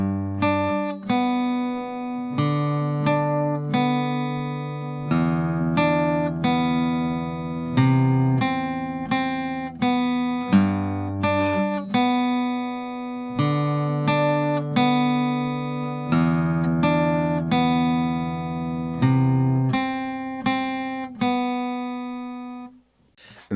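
Acoustic guitar playing a song as a beginner lesson, steady picked and strummed chord patterns with ringing bass notes, close and clear with no voices over it.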